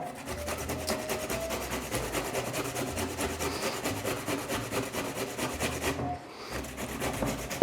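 Boiled beetroot being grated by hand on a large-holed grater, a steady close rasping rub repeating in quick strokes, briefly pausing near the end before resuming.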